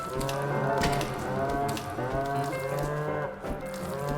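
A cow moos in the Minecraft video game, one long, drawn-out, close low call over a faint steady background, with no talking.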